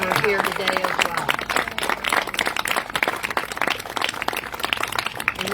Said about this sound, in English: So a big round of applause for all of our active military and our veterans who are here today as well.